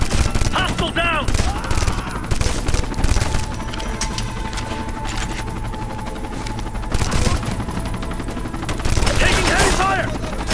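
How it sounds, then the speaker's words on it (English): Heavy sustained automatic gunfire in Ghost Recon Future Soldier, dense rapid bursts throughout with shouted soldier callouts over the shooting. "Taking heavy fire!"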